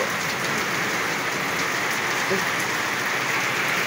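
Heavy rain pours in a dense, steady roar on surfaces outdoors in the morning, constant and loud throughout with no letup.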